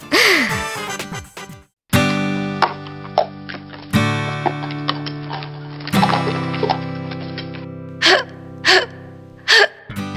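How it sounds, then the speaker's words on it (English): A series of sharp hiccup-like gasps, several short catches of breath spaced a couple of seconds apart over a sustained tonal background. "Nah, just a hiccup."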